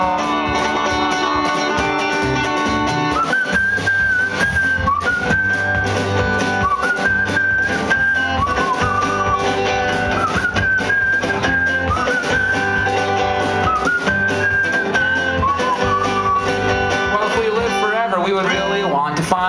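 A clear whistled melody rises and falls over a steady band accompaniment, live at a concert.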